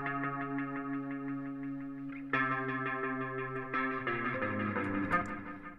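The bass part of a split riff, played on an effects-laden guitar with distortion and chorus, comes through as sustained, fairly quiet notes alone.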